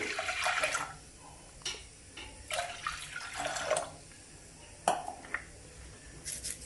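Water pours and splashes into a cooking pot of drumstick sambar in uneven bursts, with occasional light metallic clinks, close and fairly quiet.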